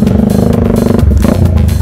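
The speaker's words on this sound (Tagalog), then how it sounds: "Inoon na natin ang motorsiklo." A modified Yamaha YTX 125 motorcycle engine runs loud and close, a steady throbbing idle with rattly mechanical clatter and a brief dip and rise in revs midway, with no voices.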